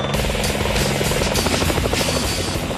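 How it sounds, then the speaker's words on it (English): Loud, close helicopter rotor thump and engine roar from choppers landing on a prison roof in Panama City, continuous and dense with a steady pulsing beat. "the choppers land on the prison roof through a hail of bullets"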